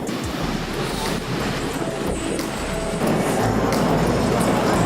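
Surf washing onto the beach at Potato Head beach club in Bali, a steady broadband roar with wind buffeting the microphone and faint background voices, swelling slightly louder in the final seconds.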